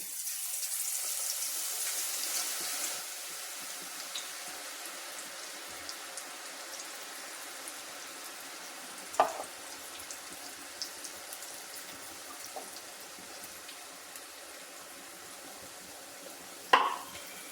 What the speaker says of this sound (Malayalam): നമ്മുടെ എണ്ണ ചൂടായി നമുക്കിനി ഒരുപോലൊരു ഒരു തവിക്കകത്തൊരു കിഴുത്തുള്ളൊരു തവിക്കകത്തേക്ക് ഒഴിച്ചു കൊടുക്കാം മാവ്